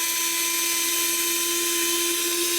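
A Fanttik NEX L1 PRO electric screwdriver drives a non-magnetic screw, its motor giving a steady, close, high-pitched whine without pause for the whole stretch.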